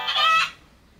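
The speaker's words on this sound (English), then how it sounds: "Which animal is fluffy and feathery? It's a chicken." A toy chicken gives a short, bright squawking cluck lasting about half a second, then fades to quiet.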